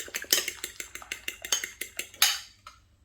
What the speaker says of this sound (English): Beat the egg and a very light dusting of salt across it.